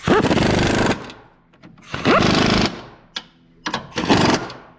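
Nuts are tightened on the front strut mount of a 2008 Toyota Camry with a power tool, heard as three loud, close bursts of buzzing rattle separated by short pauses and small clicks.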